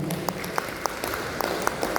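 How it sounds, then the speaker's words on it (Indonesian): Audience applause at a literary book talk, with a steady patter of hand claps and a few sharper individual claps standing out, fairly close and without speech. "Tepuk tangan buat Pak Armedi Tanjung."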